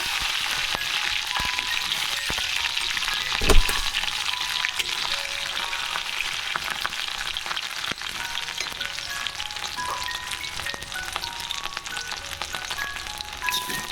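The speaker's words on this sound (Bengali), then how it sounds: "পাঁচ ফোড়নটা হয়ে গেছে এরপর আমি এর মধ্যে ক্যাপসিকামটা দিয়ে দেবো" Capsicum frying in hot oil tempered with panch phoron for a vegetarian cabbage curry, a dense continuous sizzle and spatter with scattered pops and one louder clatter early on, no talk.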